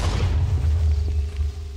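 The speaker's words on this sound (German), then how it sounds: "Da ist gerade was explodiert." A deep, booming explosion in Minecraft, likely a creeper blowing up, heavy low rumble that rolls and fades over about two seconds with no talking.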